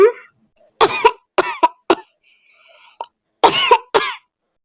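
A cartoon child coughs in several sharp bursts, some harsh and throaty, spaced across a few seconds, with a faint wheezy breath between them in a Hindi animated story.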